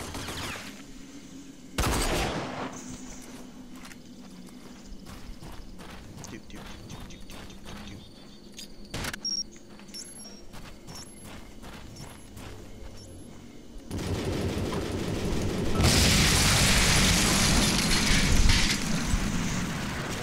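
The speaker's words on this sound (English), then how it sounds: "he couldn't hear that explosion" Gunfire and explosions in the video game RAGE: a sharp blast early on, scattered shots crackling through the middle, then a long, loud roaring burst near the end.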